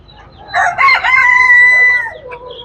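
A rooster crows loudly and close at a poultry market in Tuzla, Turkey, one long drawn-out cock-a-doodle-doo rising then trailing off against a quiet background.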